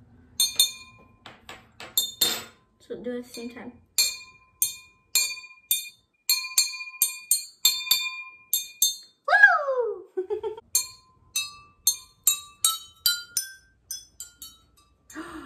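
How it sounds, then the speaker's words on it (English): A chopstick taps a row of water-filled drinking glasses in a water xylophone demonstration, giving many bright ringing clinks at different pitches in a quick, uneven rhythm, close by, with people talking in between. "When you tap the glass"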